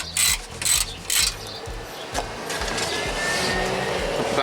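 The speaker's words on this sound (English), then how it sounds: "Here's the ratchet on the outside." Ratchet wrench turning a 16 mm bolt while fitting a brush guard on a Chevy Trailblazer: three quick bursts of rapid clicking, then a steadier stretch of ratcheting, close and loud with no talk.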